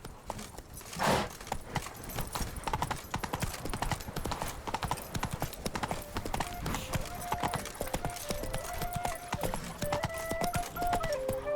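Hooves of Roach, the horse from The Witcher 3, galloping in a steady rapid clip-clop rhythm throughout, close and prominent, with game music and effects underneath.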